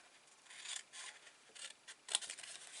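Paper craft treat cups are trimmed with scissors in a series of short, quiet snips and rubbing cuts, close up and faint, with no talk.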